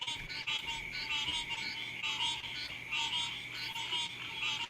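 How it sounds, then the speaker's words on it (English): Frogs croak continuously in a dense chorus on a foggy night outdoors, a steady overlapping trill with repeated higher calls pulsing throughout at moderate distance, no voices. "Now I feel like the frogs are saying words."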